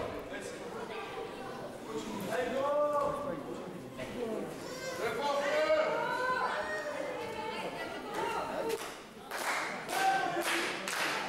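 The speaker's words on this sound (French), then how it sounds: "Et là, Koro qui est applaudi par le public" A crowd at a wrestling show claps and chatters for the wrestler Koro, a steady roar with scattered cheers and shouts. A commentator talks over it throughout.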